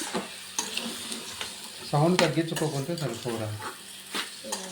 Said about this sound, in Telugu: గుడ్డు బాగా ఫ్రై అయిన తర్వాత ఇందులో ఉడకబెట్టిన గోరు చిక్కుడు వేసుకొని మరలా బాగా కలియబెట్టాలి